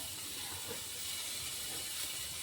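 A thickly cut onion fries in hot oil for a snake gourd sukka, making a constant, even hiss and sizzle that stays at a low, steady level throughout.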